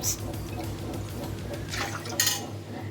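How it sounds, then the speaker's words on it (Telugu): Milk being stirred in a pot on a stove turned up high, a spoon scraping and clinking against the metal in quick irregular strokes, with a sharper clatter near the end. "స్టవ్ హైలో పెట్టేసుకొని బాగా కలిపేసుకుందాం"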